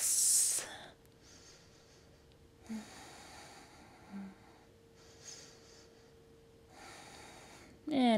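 Slow, long breaths during a one-legged yoga balance pose come as soft separate bursts of inhaling and exhaling, with quiet gaps between them in a calm room.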